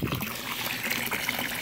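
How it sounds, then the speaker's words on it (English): Water trickles and splashes steadily out of the filter on a backyard pool converted into a pond, a close, continuous wash of sound with no voices. "this is where the water escapes"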